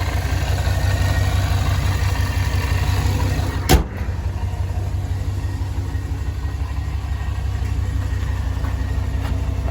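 A Ram pickup fitted with a ProCharger supercharger with helical gears and stock exhaust idles steadily, a loud close rumble with one sharp click or knock partway through and no talking.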